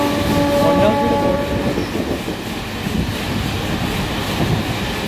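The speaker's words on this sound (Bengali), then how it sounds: "ওটা ট্রেন ফাঁকা, ওটা ট্রেন।" A local passenger train between Suri and Barddhaman in West Bengal runs loudly and steadily, with a short horn-like tone near the start over a constant rumble and rattling wagons.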